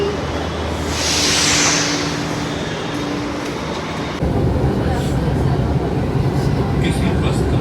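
Steady rumbling roar of a Delhi metro train in motion heard from inside the carriage, continuous and fairly loud with a faint tonal whine.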